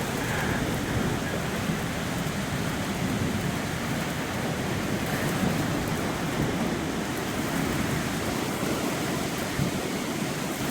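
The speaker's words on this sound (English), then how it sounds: "What a storm we got moving in." A thunderstorm moving in brings steady, dense rain that roars without a break, with low rumbling underneath that may be distant thunder, and no voices.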